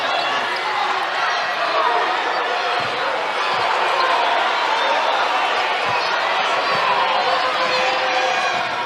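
A large indoor crowd at a women's college basketball semifinal roars continuously, cheering and shouting with steady loud energy, with a few faint ball bounces and thuds underneath.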